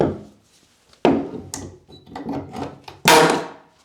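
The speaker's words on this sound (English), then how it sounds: "I'm going to remove this death nail before I accidentally rip my wrist open on it." Nail being wrenched out of an old floorboard during floor repair: a few sharp wooden creaks and thunks, close and fairly loud, with a strong final pry near the end.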